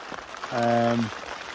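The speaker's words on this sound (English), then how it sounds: "as you can hear, that rain's really sort of picked up" Heavy rain drums on a tent at a near-freezing winter mountain camp on Pike o' Blisco as a steady close hiss and patter, with a brief voiced sound partway through.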